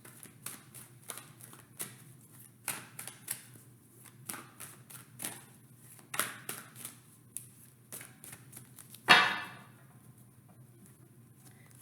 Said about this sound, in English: So let's give this 3 quick shuffles